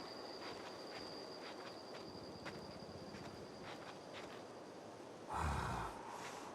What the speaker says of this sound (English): Oh, I hear it breathing.